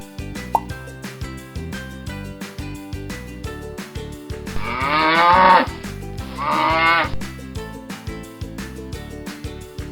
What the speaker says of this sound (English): What kind of sound does a cow make?